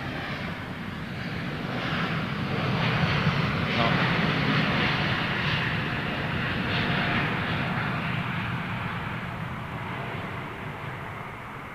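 Airbus A330 jet airliner taking off from London Heathrow Airport, a broad engine roar that swells and slowly fades as it climbs away, with people talking over it.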